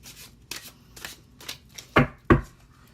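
Tarot cards being split-shuffled by hand, heard as a handful of short papery riffling bursts in an otherwise quiet room, with the final two bursts louder and sharper.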